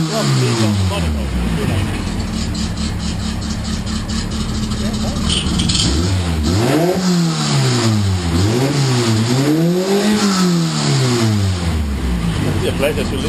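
A Formula Ford race car engine runs loud and close, holding a steady drone before swinging through repeated rising and falling revs, with voices faintly underneath.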